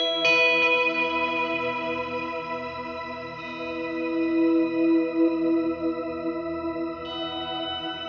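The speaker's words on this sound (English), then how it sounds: "this last one here is my Shimmer Reverb preset" An electric guitar chord rings out through an Axe-FX II shimmer reverb preset, with long sustained tones and bright octave-up shimmering tails. Fresh notes are struck a few seconds apart and swell into a lush, echoing wash. No one talks.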